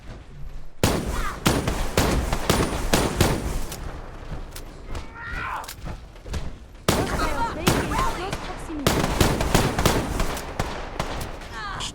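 Plasma rifle fire in Fallout 4, heard as loud bursts of rapid repeated shots in two clusters separated by a brief lull, with combat effects behind them.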